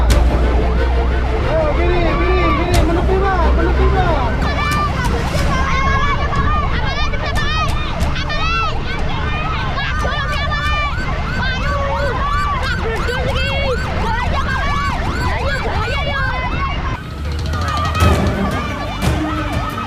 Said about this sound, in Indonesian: Sambil meraung-raung menyalakan sirine, mobil pemadam kebakaran pun melaju dengan cukup cepat.